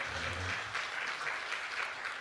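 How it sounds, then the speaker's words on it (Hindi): Audience applause at a Hindi comedy poetry recital, a steady, even wash of many hands clapping, moderately distant and sustained for a couple of seconds with no voices over it. "बात अच्छी लगे तो आपकी तालियां सुनो"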